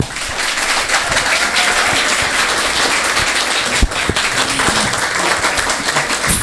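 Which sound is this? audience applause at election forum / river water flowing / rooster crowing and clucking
audience applause at election forum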